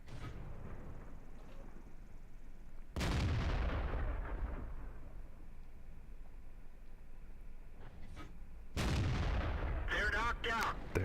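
An SU-85 in the World of Tanks game fires its gun in quick succession, with three loud booming shots and rumbling decay over a low ambient background.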